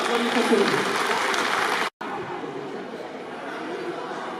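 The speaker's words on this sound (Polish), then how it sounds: "Dlatego ogromne brawa, ogromne brawa" An audience applauds at a county rural women's association tournament in Jezierzyce, a steady dense patter of many hands with murmured chatter, briefly cut off mid-way, then resuming at a similar level.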